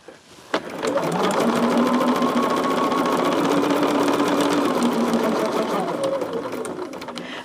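A sewing machine stitches a quilt block at a steady fast pace, a loud whirring rattle that runs continuously for about six seconds after a sharp click at the start.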